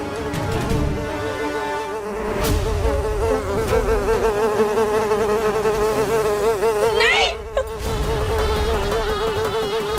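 A giant fly drones with a loud, close, continuous buzz whose pitch wavers and swoops throughout, briefly cutting out near the end before resuming. No one speaks.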